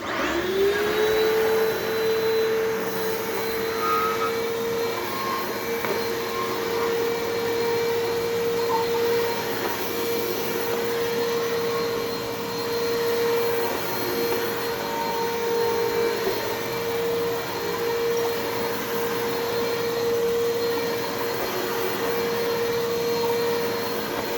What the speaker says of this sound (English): So, the Bissell Power Force 3552 in 3, 2, 1.